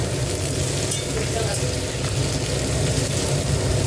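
Potatoes and eggplant fry in pungent mustard oil tempered with nigella seeds, giving a steady, close sizzle that holds even throughout, with a low rumble underneath.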